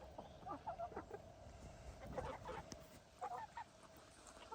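Chickens on a rural homestead trail, several short clucks and honking calls in loose bursts, fairly near and moderately loud over faint outdoor background noise.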